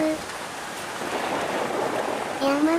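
Steady rushing water of the Iwao waterfall near Yanai, Yamaguchi, Japan, a broad continuous roar heard alone for a few seconds, with faint tonal chirps at start and end.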